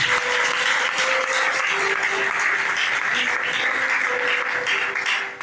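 A church congregation applauding, sustained dense clapping from many hands throughout with faint voices and calls mixed in.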